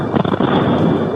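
Explosion at a cooperative in Palotina, heard as a loud, muffled, rumbling blast with a burst of crackling near the start, then a sustained low roar; no voices.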